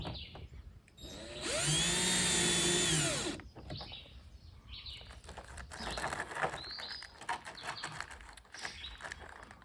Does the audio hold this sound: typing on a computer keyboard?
no